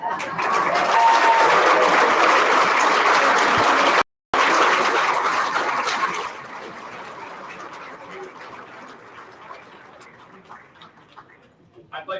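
Loud, sustained applause fills a banquet room at a state baseball hall of fame induction dinner, with a brief cut midway, then fading into scattered claps and murmuring voices.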